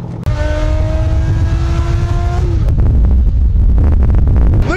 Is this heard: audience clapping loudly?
no